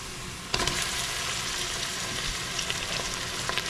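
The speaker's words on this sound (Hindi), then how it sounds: "अब इसमें हम डालेंगे चिकन।" Chicken hits a pan of cooked onions in a small kitchen and bursts into loud, continuous sizzling that holds steady throughout, with faint stirring clicks underneath.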